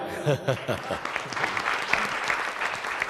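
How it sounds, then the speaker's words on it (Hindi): Loud applause for a retiring teacher at a school gathering, many hands clapping steadily over a few seconds, with a voice speaking briefly at the start. "टीचर साववानी के लिए भी जोरदार तालियां हो जाए।"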